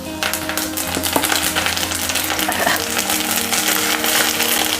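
Tender curry leaves hit hot oil with garlic for a gongura pickle, giving a loud, continuous crackling sizzle that holds steady throughout with no talking.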